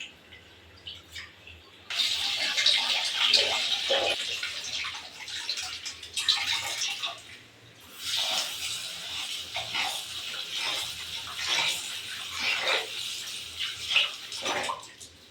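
Water pours steadily from washed rice being drained while cooking chicken biryani at home, a loud splashing rush in uneven surges with brief pauses, close by and with no talking.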